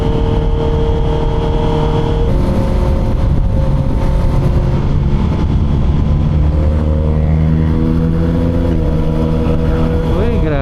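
2024 Honda CB650R motorcycle fitted with a new full exhaust system, revving loudly and continuously up close, engine pitch holding and then climbing sharply near the end, with a voice speaking over it.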